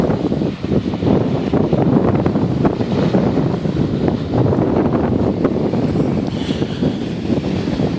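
Strong wind over a bay buffets the microphone in a loud, continuous roar with gusty surges, while water sloshes faintly beneath it.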